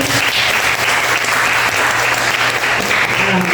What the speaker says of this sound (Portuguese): Vamos receber as palmas do Senhor Jesus?